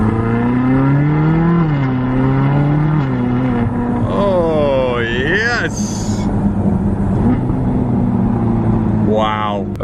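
A Ferrari California with a dual-clutch gearbox drives along, its engine droning loud and steady with rising and falling pitch as it accelerates and shifts, heard up close from inside the car.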